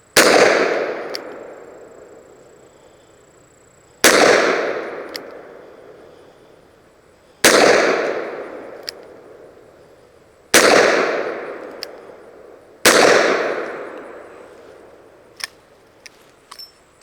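A Taurus Judge revolver fires five 45 Colt Hornady Lever Evolution rounds, each a sharp, loud bang about three seconds apart, followed by a long ringing decay outdoors, with faint clicks between shots.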